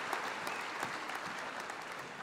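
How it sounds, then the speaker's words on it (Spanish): Church congregation applauding during a Spanish-language sermon, a steady wash of clapping from many hands, fairly faint and distant, lasting the whole moment. "Dale un fuerte aplauso al Señor."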